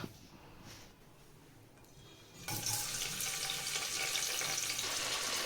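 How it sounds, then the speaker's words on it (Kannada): Onions hit hot oil at about the midpoint, setting off a loud, steady sizzle that continues without pause after a quieter stretch of faint kitchen noise; no one speaks. "ಇವಾಗ ಆಯಿಲ್ ಹೀಟ್ ಆಗೋಕ್ಕೆ ಇಟ್ಕೊಂಡಿದ್ದೀನಿ. ಅದಕ್ಕೆ ಆನಿಯನ್ ಹಾಕ್ಬಿಟ್ಟು ಫುಲ್ ಕ್ಯಾರಮಲೈಸ್ ಆಗೋವರೆಗೂ ಫ್ರೈ ಮಾಡೋಣ"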